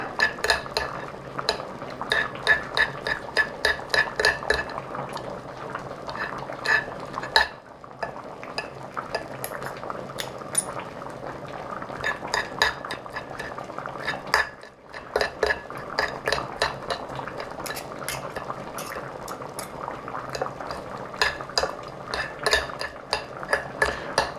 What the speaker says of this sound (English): So we'll just put this back in the pot, and it'll be time to eat some nice warm cozy soup.